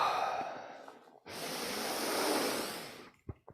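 Deep qigong belly breathing: one long, slow airy inhale or exhale, then a steady louder breath lasting nearly two seconds, ending in a short puff. Close and breathy, with no talking.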